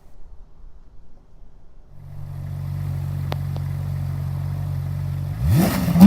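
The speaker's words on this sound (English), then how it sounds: "this handmade engine gives out an amazingly intoxicating exhaust note that we're going to hear now" A Ferrari 458 Italia's V8 idles with a low steady drone, then the exhaust suddenly snarls into a sharp, loud rev at the end.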